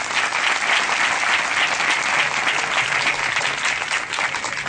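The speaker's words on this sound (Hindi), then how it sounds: "आज प्रभु स्वामी को हम अपने हृदय से ताली बजा करके उनको बधाई देंगे।" Audience applause at a religious discourse (pravachan) in Malod: dense, sustained clapping from many hands that stays loud and steady throughout, with no speech over it.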